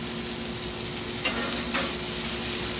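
Beer cheese brat burgers sear on the hot side of a grill after smoking, giving a loud, steady, close sizzle with a couple of brief crackling bursts.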